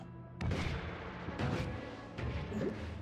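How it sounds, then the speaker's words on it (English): Noita video game explosions: three booming, crackling blasts sound in quick succession over a steady layer of game noise, each with a sharp onset followed by a rumbling decay. "Oh, I have explosion immunity, so it's fine."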